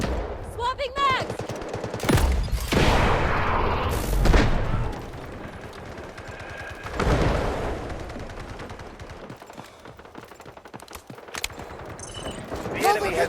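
Gunfire in the Delta Force video game during a 24v24 Warfare battle: rapid machine-gun bursts and heavier booms, loud and close, alternating with quieter gaps. Shouted voices come through between the shots.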